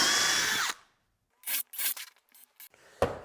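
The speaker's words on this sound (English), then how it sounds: "So we're just going to countersink all 4 of these on both ends." A power drill countersinks holes in 2x4 lumber with a sustained whine that cuts off sharply, followed by several short grinding bursts and a final brief spin, all close and dry.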